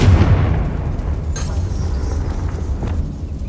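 A Confringo blasting spell explodes in Hogwarts Legacy, a deep booming burst at the start that rolls into a rumbling tail with a couple of sharper pops following.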